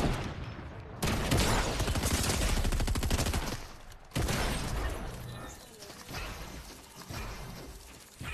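Dense bursts of rapid automatic gunfire from a first-person shooter video game, loud and sustained with brief pauses, several volleys in a row while people talk faintly in the background.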